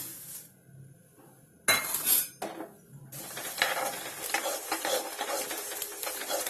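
Cumin seeds dry-roasting in a pan for homemade sambar powder, with bursts of stirring and scraping and a faint sizzle, louder in the second half and heard alone without talk.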